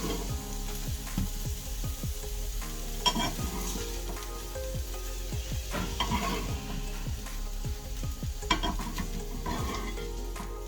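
Fish sizzling and crackling in a hot pan of mustard oil, with scraping and stirring sounds throughout; close and steady, no talking.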